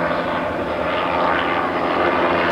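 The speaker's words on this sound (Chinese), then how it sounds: "直升机还在天空飞啊飞啊飞" Helicopter flying overhead in the sky, a loud steady engine drone and rotor rumble throughout with no talk.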